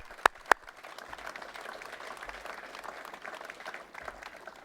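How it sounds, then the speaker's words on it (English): An audience at a water treatment plant upgrade and expansion event claps together in a soft, steady round of applause from a distance, after two sharp nearby taps at the start. "let's give them a round of applause."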